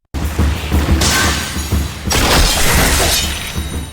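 A shield shatters under a sword thrust in an animated fantasy tale, a sudden loud crash followed by a second burst of breaking, clattering debris that slowly fades.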